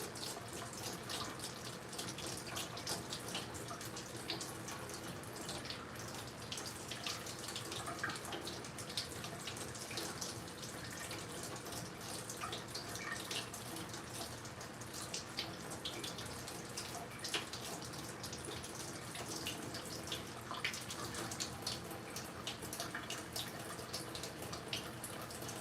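Warm water runs steadily from a tap, a constant broadband rush with no pauses and occasional faint drips and splashes.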